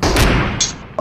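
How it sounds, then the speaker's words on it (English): A grenade thrown in a shooter video game, with a heavy, loud explosion boom rumbling for most of a second, short sharp cracks on either side and a fresh burst at the end. "Throwing a grenade. I don't know why. I just felt like throwing a grenade."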